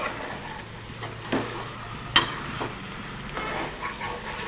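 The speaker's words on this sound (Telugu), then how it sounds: "మన చికెన్ అయితే బాగా ఫ్రై అవుతుందండి" Chicken fries in a pan with a steady close sizzle, broken by a few sharper stirring knocks and scrapes, and no voice over it.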